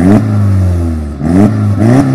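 A Seat Ibiza Cupra 1.8 20VT with 180 hp revs loudly and close up, its engine pitch rising and falling in two or three quick blips.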